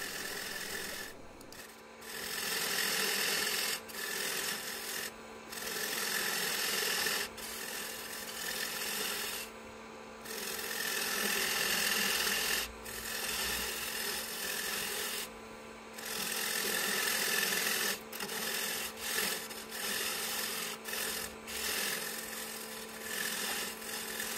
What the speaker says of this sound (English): Use the parting tool to create the recess for the chuck jaws.